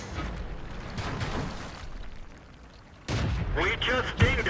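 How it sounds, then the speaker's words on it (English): Tank cannon shots in World of Tanks, a couple of heavy booms with rumbling decay, a voice talking over the second half. "So now I have 2 tanks shooting at me"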